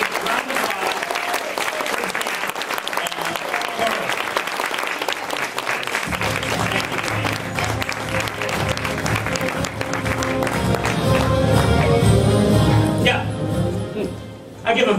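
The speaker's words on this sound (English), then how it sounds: "How about a big round of applause?" Audience at a live podcast show applauding, a sustained dense wash of clapping and cheering throughout that swells louder toward the end.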